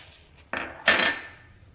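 Two quick scraping clinks of a spoon in a bowl as nigella seeds are mixed into cooled pickle spice masala for red chilli pickle, a light tap followed by a louder scrape that fades.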